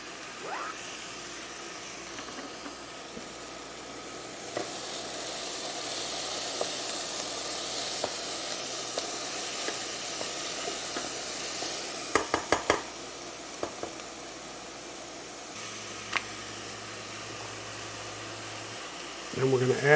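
Celery and carrots sizzle in a pan, a steady soft hiss broken by a few sharp clicks of stirring, heard fairly quietly throughout.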